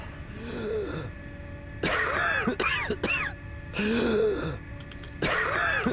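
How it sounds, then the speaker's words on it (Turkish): A character in a gas-filled area of Metro 2033 Redux coughs and hacks in several harsh, raspy bursts with brief gaps between them. "Öksürüyoruz."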